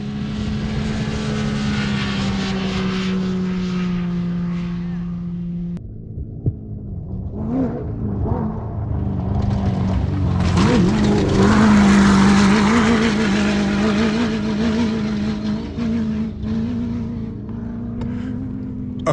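A desert race car roars past at full throttle during a desert race, its engine note swelling loud and close, then droning and fading with a wind-buffeted hum.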